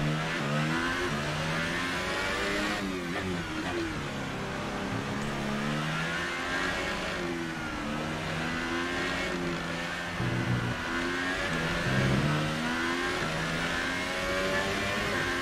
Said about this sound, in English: It's true, my engine does not sound good.